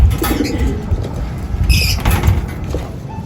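Small birds, African lovebirds placed in a cage near an old loft trapdoor, chirp and coo in short bursts over a busy background of rustling and faint wing movement.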